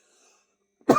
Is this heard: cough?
yes